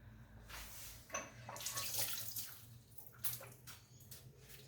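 An onion is rinsed under a running tap at a sink, a soft continuous splash of water with surges and handling noises, close but quiet.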